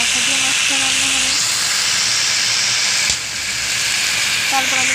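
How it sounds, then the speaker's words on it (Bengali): Potatoes and vegetables sizzle loudly in a wok of hot oil tempered with cumin, a dense continuous hiss that dips briefly before rising again; a voice speaks faintly underneath. "আমি কড়াইয়ের মধ্যে তেল দিয়ে একটু জিরে ফোড়ন দিয়ে আমি দেখো আলু আর লাফাটা সবজিগুলো দিয়ে দিয়েছি"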